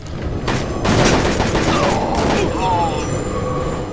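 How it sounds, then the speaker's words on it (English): Automatic weapon fire rattles in Shadow Ops: Red Mercury on a train level, loud rapid bursts of shots close by, punctuated by heavier booms, with a voice speaking briefly amid the shooting. "Not very tactical to run in front of a guy firing an automatic weapon"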